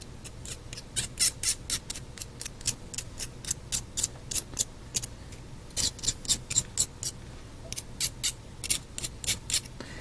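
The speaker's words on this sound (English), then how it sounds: "just kind of take this X-Acto knife and lightly scrape it off into my box of a trash can" An X-Acto knife lightly scrapes paint off a 1/64 scale NASCAR diecast car, making a rapid series of short, crisp scratching strokes in uneven bursts, close and clear.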